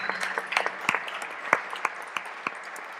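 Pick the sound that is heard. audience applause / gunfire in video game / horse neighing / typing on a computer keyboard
audience applause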